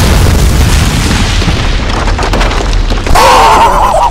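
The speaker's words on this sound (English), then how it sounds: "I guess I must have hit the bomb or something like that" A bomb blast in Call of Duty: Modern Warfare (2019) on 'The Wolf's Den' mission erupts as a loud, sustained low boom with crackling debris, followed by a second surge of rumbling noise.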